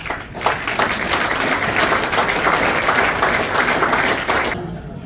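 Dense, sustained audience applause welcoming a speaker at a real estate industry event in B.C., many hands clapping loudly and steadily for several seconds before cutting off abruptly.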